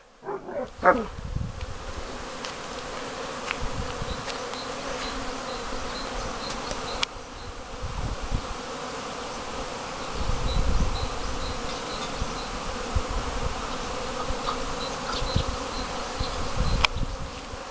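Honey bees buzzing around working beehives at a spring apiary as cherry and apricot bloom, a steady soft droning hum throughout with a dog barking briefly in the distance.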